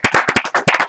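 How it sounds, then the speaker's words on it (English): A small group at a tech meetup claps for a t-shirt winner, with a handful of close, distinct handclaps in a brief burst. "Can everyone give a round of applause?"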